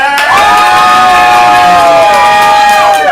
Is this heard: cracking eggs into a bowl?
no